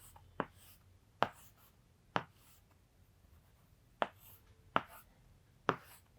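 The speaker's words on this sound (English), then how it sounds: "If I draw the structure here" A hand-drawn plant tissue diagram is sketched with quick, sharp tapping strokes, about six separate distinct taps spaced irregularly over a quiet background, close and clear with no speech.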